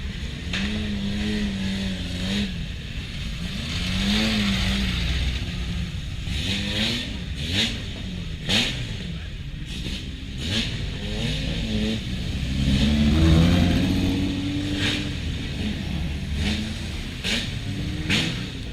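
A Volvo S60 touring race car engine revs and accelerates at Goodwood Festival of Speed, loud and close, with repeated rising and falling revs and sharp gear-change bursts over a steady crowd-and-track background.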